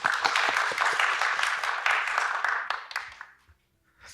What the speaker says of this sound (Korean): 장규 선생님 박수로 맞아주십시오